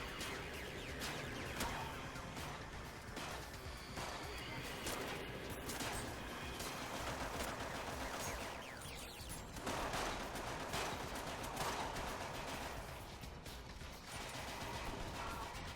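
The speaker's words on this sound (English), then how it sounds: "I'm being shot at, hang on." Xbox 360 shooter combat with continuous dense gunfire and mechanical clatter, a steady loud wash of rapid shots and impacts throughout with no pauses.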